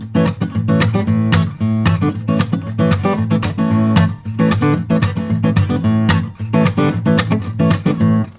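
Hill country blues guitar is strummed in a driving, choppy rhythm, with the fretting hand cutting notes short into a stuttering pulse, loud and close throughout.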